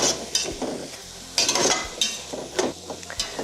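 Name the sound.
celery and onions sautéing while being stirred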